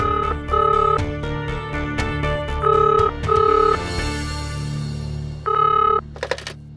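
A landline telephone rings in repeated electronic trills, several short bursts separated by brief pauses, loud and close, with a low background hum beneath.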